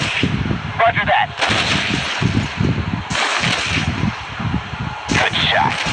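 Gunfire in the Modern Combat 3: Fallen Nation shooter game, repeated loud bursts of shots and booming impacts filling the scene, with broadband cracks recurring throughout alongside battlefield noise.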